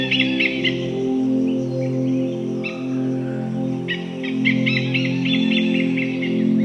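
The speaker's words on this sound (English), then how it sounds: "When several hornbills gather, their sound can sound like a loud bang, almost like a thundering drum." Hornbills in a tropical forest give bursts of sharp, repeated calls that come and go in clusters over a steady low drone, fairly close and without speech.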